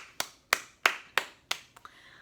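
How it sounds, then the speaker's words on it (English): Hands clapping at a children's storytime after a book, about five crisp, evenly spaced claps followed by a couple of lighter ones, close and clear with no talking. "Let's clap it out for our book."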